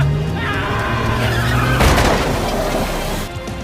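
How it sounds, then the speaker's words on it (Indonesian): Loud tire skidding from a car under dramatic music, with a sharp crash burst midway as one car is rammed into a gangster's car. "Kang segera menubrukkan mobilnya ke mobil gangster yang menculik Yeonji dan menyelamatkannya."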